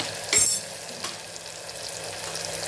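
Onion and tomato sizzle softly in a hot pan, with a couple of sharp scraping stirs from a spoon early on.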